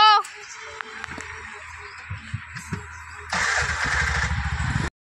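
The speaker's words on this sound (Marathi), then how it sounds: "आत्या चालवते रिक्षा" An auto rickshaw engine starts nearby, sounding quiet and broken at first, then catching into a loud, steady, throbbing idle for the last second and a half before cutting off abruptly.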